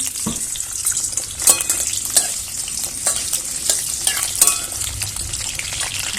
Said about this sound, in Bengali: তো আমাদের তেলটা মোটামুটি গরম হয়ে গেছে। তো এবার আমি আলুগুলো, এই যে আলুগুলো দিয়ে দেবো।